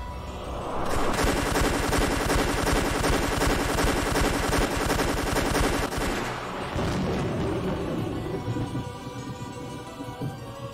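A volley of over 1,000 ballista shots fired at once in the Umineko video game lands as a loud, rapid rattling barrage that holds for several seconds, then breaks into rumbling impacts fading away.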